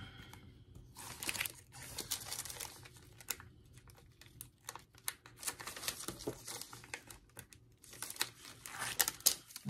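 Transfer tape crinkles and peels away from a vinyl stencil in bursts of close, dry rustling and crackling that stop and start over several seconds.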